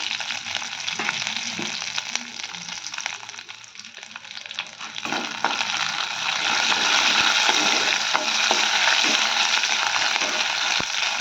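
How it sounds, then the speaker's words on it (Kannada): Curry leaves with sesame seeds fry in hot oil, crackling and sizzling steadily and close, briefly softer and then louder and denser, with occasional sharp pops and no one speaking. "ಇವೆಲ್ಲ ಚಂದ ಫ್ರೈ ಆಗ್ಯಾವ್ರಿ ಎಣ್ಣೆಗ"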